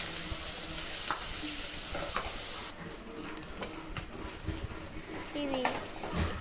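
Turmeric is stirred into a frying curry base for potato kurma: a bright, steady sizzle gives way to quieter frying with scattered clinks and scrapes of a spoon in the pan.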